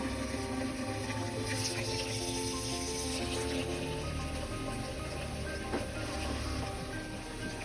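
Water runs steadily into a bucket, a continuous hollow splashing rush at close range with no talking.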